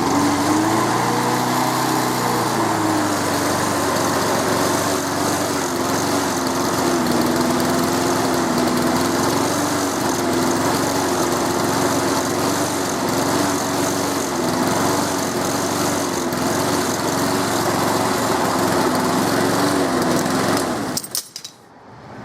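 A small chainsaw engine is held at maximum throttle, a loud, high, steady buzzing whine up close for about twenty seconds, then it cuts off abruptly at the end.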